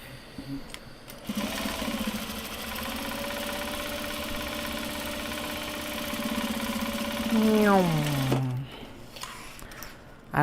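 A sewing machine hums steadily with a droning motor for several seconds, close and moderately loud, then winds down with a falling pitch before stopping.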